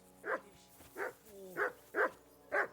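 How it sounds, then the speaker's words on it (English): A dog barks in the video game Kingdom Come Deliverance 2, giving five evenly spaced, fairly close barks over a quiet background. "I assume you can hear that damn dog of yours barking."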